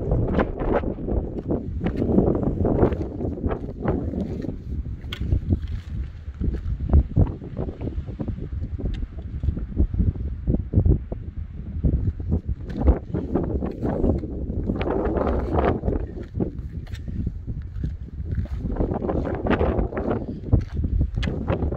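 Strong desert wind buffets the microphone continuously, roaring gusts and rustling with no letup.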